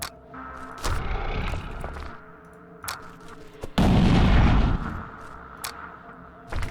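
Grenade blasts in the video game Aeon of Sands: several heavy booming thuds spaced irregularly, the loudest a sustained rumbling burst midway, each loud and close with no talking over them.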